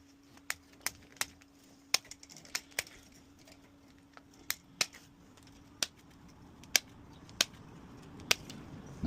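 Chicken wire being snipped with cutters while shaping a butterfly, a series of sharp, crisp clicks at irregular intervals, close and alone over a faint background hum.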